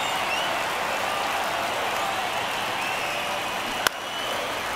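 Baseball stadium crowd in the MLB The Show 23 video game at a Chicago White Sox at LA Dodgers game, a steady loud roar of fans with a single sharp click near the end.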